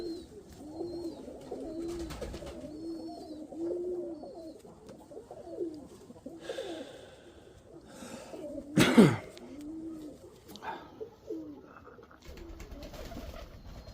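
Soft, repeated cooing of pigeons, a steady low rhythmic call with a few brief rustles and a sharper flutter partway through.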